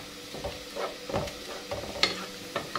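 Onions browning in a pan for an Egyptian home-style dish give off a soft, steady sizzle, with occasional stirring scrapes and clinks close by.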